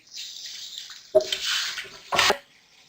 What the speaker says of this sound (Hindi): ये जो चिकन मैंने मैरिनेट की हुई थी वेजिटेबल्स के साथ वो डालकर इसे मैं कुक करने के लिए रख दूंगी।